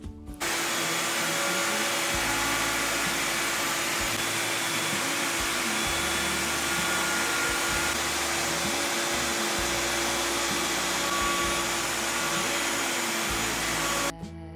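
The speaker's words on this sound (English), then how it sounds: "I clean this cut with my router template so it looks nice" A router guided by a template cleans up a cut in a workbench, a loud sustained high whine running steadily for the whole stretch with brief slight dips in load.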